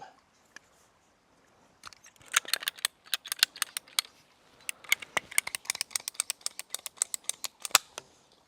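Plastic maple sap main-line pipe being trimmed in a sugarbush, with scattered crisp snips and clicks that build into a dense run of close, sharp cutting and rattling sounds with no talking.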